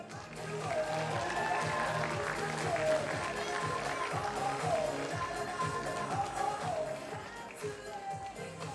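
Applause from an audience at a festival award ceremony as a special prize is handed out, a dense continuous crowd sound holding steady for several seconds with voices and music mixed beneath it.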